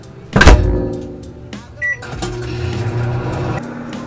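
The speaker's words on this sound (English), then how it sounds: "Next up, you just want to microwave for a bit." A door clunks shut, keypad beeps sound, then a microwave oven hums steadily in the foreground.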